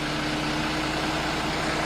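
An articulated lorry's heavy engine idles steadily nearby, a constant low rumble with a dense vibrating hum and no pauses.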